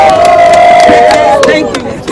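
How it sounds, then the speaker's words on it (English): A crowd at an International Women's Day protest in Nigeria cheering and shouting loudly and close, a sustained roar of voices over about two seconds. "Please, a round of applause."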